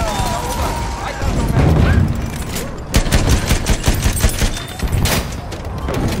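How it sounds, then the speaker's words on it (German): Machine gun and rifle fire rattle in dense bursts during a Battlefield 1 Operations match on the Ballroom Blitz map, loud and close with booming impacts underneath and in-game soldiers shouting over the gunfire. "Ein Maschinengewehr!"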